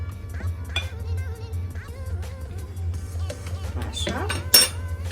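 A utensil stirs a mixture of flour and a teaspoon of salt in a bowl for sausage-in-dough pastry, giving continuous scraping and clinking against the bowl, close, under a steady low background hum, ending with a sharper clink.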